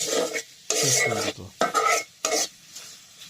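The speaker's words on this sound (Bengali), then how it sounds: "যার কারণে আমরা একটু ভেজে নিচ্ছি মশলাটা" Spice paste frying in a pan, heard as several bursts of scraping stirs and sizzling with short quieter gaps between them, close by.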